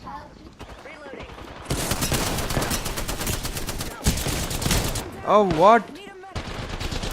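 Loud, rapid bursts of automatic gunfire in the shooter game Apex Legends rattle close by in several volleys, with a player's brief exclamation mixed in.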